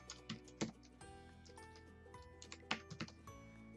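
Keys clatter on a computer keyboard as a short search term is typed, a few quiet, irregular taps and clicks over faint background hum.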